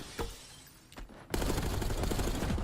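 Pistol gunfire in a Call of Duty match at a CDL Minor tournament: a few sharp, scattered shots early, then a loud, dense, sustained burst of firing from midway on.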